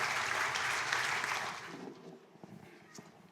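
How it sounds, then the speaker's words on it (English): A church congregation gives a round of applause to welcome newcomers, a dense burst of clapping that fades out after about a second and a half, leaving a few scattered claps and faint voices in the room. "a good round of applause"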